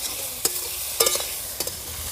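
Mustard greens with turmeric and salt get stirred in a hot pan: a low steady sizzle with several sharp scraping clatters of the spatula against the pan, no voices.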